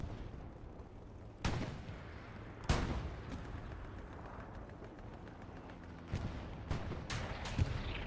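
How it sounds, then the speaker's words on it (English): Tank cannon fire in Hell Let Loose during a competitive armor engagement: several sharp booming shots land at irregular intervals over a low rumbling battlefield, some distant and softer, no talking. "Now we've got some shots landing."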